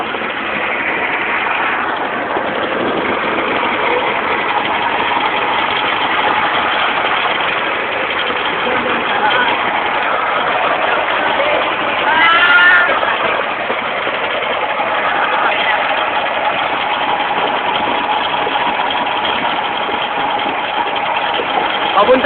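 Kuliglig hand tractor engine runs on a trip, a loud, continuous rumbling drone close by for the whole stretch, with voices talking over it.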